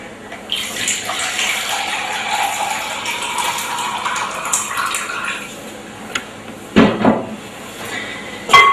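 Warm water pours steadily into a mixing bowl for a no-knead bread dough, a continuous splashing rush for several seconds that then breaks into a few louder knocks and clatters near the end.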